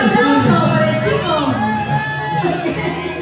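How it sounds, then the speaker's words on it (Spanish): A live concert crowd at a Peruvian Tunantada folk music event cheers and shouts loudly and continuously, with whoops rising over a steady roar. "Un aplauso para el chico."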